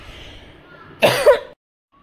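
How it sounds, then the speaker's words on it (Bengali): A single dry, tickly cough bursts out close by, a short rough double rasp lasting about half a second after quiet room tone, then silence. "তো খুব খুসখুসে কাশি হয়েছে, বুঝতেই পারছো।"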